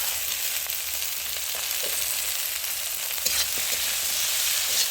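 Chopped flat beans fry in a hot pan, a steady dense sizzle with faint crackles and occasional soft stirring scrapes, close and continuous with no talk.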